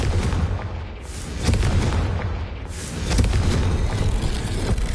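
Spell-blast explosions from the Hogwarts Legacy video game: loud, dense booming bursts that swell twice in close succession, with no talk.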